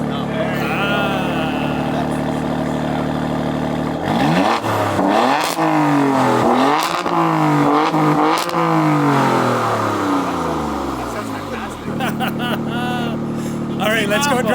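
A Maserati Grecale Trofeo or Alfa Romeo Stelvio SV SUV revs hard several times as its exhaust flaps open, loud rising and falling engine roars between steadier idle, with people talking nearby.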